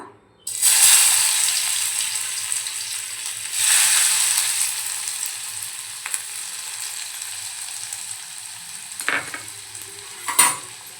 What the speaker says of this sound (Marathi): आता त्यामध्ये बारीक चिरलेला कांदा घालून घेऊया